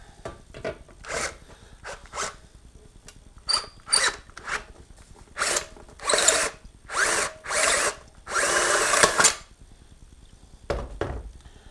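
A step drill bit (unibit) enlarges a hole to 1/2 inch in a spindle control panel, with short bursts of high grinding drilling separated by pauses, close and alone.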